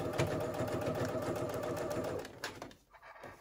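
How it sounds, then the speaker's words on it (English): A sewing machine runs in a fast, even mechanical chatter while top stitching binding along the folded edge of a tank dress bodice, then stops near the end, leaving faint handling noises. "top stitching very close to that folded edge on the outside of your bodice on top of the binding"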